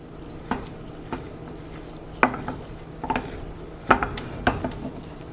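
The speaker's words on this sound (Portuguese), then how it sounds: "Vou ficar aqui mexendo só mais um minutinho." A spoon stirs thick cassava dough in a bowl, giving faint scraping and several sharp clinks against the bowl in an irregular rhythm, close and quiet.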